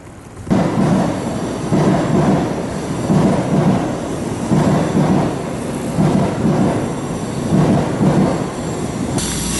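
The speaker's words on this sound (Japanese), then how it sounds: "新幹線の音がしました。" Shinkansen bullet train running near a cycling route in Hiroshima, a loud continuous rumbling roar with rhythmic pulsing swells across the whole stretch.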